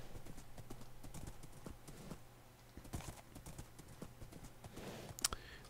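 Horse hooves clip-clopping in the Minecraft video game, a quiet run of irregular hoof clicks at close range, and nobody speaks.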